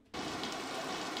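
Heavy rain from Typhoon Nika pours down on Isabela along the national highway in Santiago City, a dense, steady hiss that starts abruptly and keeps up without a break.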